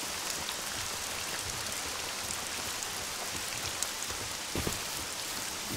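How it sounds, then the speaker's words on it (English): Steady rain in the video game SCUM, a soft continuous hiss of drops falling across open ground, even and unbroken with a faint patter throughout. "I like the rain, just because you can run out in, like, fields and stuff"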